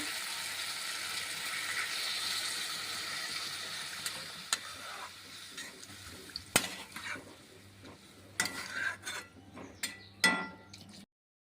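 Water goes into a simmering pot of tender drumstick and potato curry, making a steady hissing sizzle that fades over several seconds, followed by clinks and scrapes of a spoon against the pot.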